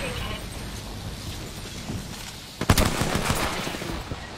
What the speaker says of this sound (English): I shot at an enemy.